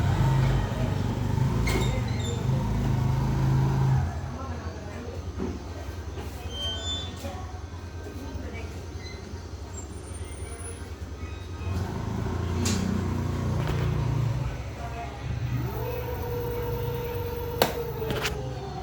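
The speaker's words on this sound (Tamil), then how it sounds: "மோட்ரு ஓடுறது உங்களுக்கு தெரியும்" An electric scooter motor runs after a wiring fault is fixed, a steady electric hum and whine with mechanical rattle, ending in a rising whine.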